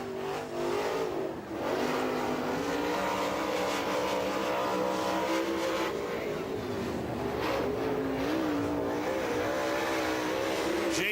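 A super late model race car runs a timed qualifying lap at Rome Speedway in Georgia, its engine a steady loud drone that rises and falls through the turns with no talk on top.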